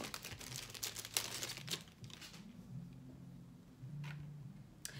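Plastic packaging around a Make It Last setting spray crinkles and crackles close by in quick, faint bursts, thinning out into a quiet hum with a few last rustles and no talking.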